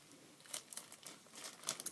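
A plastic bag holding a bottle of Cetaphil face wash crinkles softly as it is handled, with a few faint, quick rustles close by and no talking.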